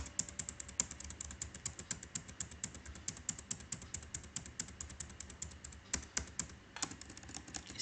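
Rapid computer keyboard key presses while working in Tally Prime accounting software, a steady run of close, crisp clicks and taps with occasional heavier strokes, no voices.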